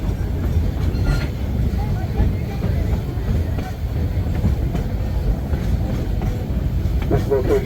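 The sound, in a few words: Georgetown Loop railway train pulling into a siding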